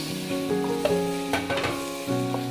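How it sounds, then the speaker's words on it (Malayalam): Spring onion, chopped onion and capsicum tossed into a hot pan for gobi manchurian, sizzling steadily over high flame with a few clattering stirs and knocks, close and fairly loud, no talking. "ഒരൽപ്പം സ്പ്രിംഗ് ഒനിയൻ, കട്ട് ചെയ്ത് വെച്ചിരിക്കുന്ന ഒരു സവാള, ഒരു ക്യാപ്സിക്കം എന്നിവ ഇതിലേക്ക് ഇട്ട് കൊടുക്കാം."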